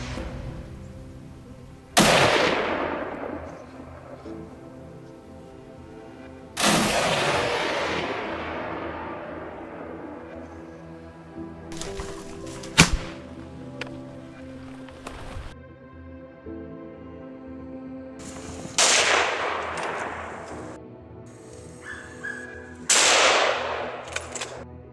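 Several loud gunshots fired at wild boars on a farm, each sharp bang spaced seconds apart and trailing off in a long outdoor echo, with no voices.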